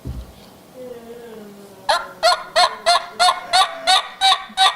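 A two-reed game call being huffed with forced air, giving a run of about nine loud, evenly spaced honking notes that follow a softer, faint lead-in.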